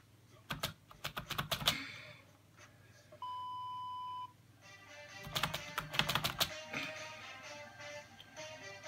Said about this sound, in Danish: hvis mit tastatur larmer